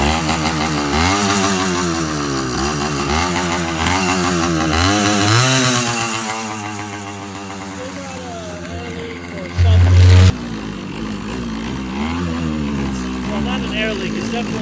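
Minarelli-powered hybrid motorized bicycle running on a test ride, a buzzy two-stroke engine revving up and down in repeated surges, then settling into a rougher idle after a sharp thump, loud and close with occasional voice.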